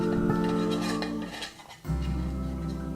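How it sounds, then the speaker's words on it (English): Metal lid pressed back onto a small tin holding cloth for char cloth, a few close scraping clinks and a dull thump as it seats, over a steady low background hum. "Okay, so now, lid back on."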